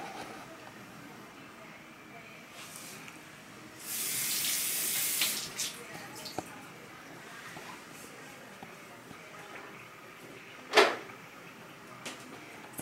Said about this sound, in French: Par la suite, on va rincer.